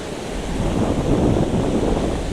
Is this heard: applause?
no